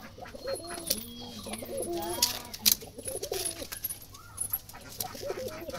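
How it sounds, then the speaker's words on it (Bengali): Repeated soft, low cooing calls from a brown male Jalali wild pigeon, several phrases in a steady rhythm, moderately close, with faint background bird chatter and noise. "এখানে একটা খয়েরি জালালি বুনো কবুতর আছে, সে হলো নর"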